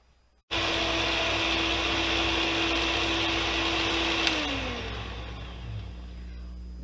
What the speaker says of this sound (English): we're going to cream that butter and sugar together until it's nice and creamy